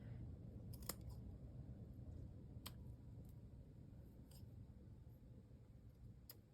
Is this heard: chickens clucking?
no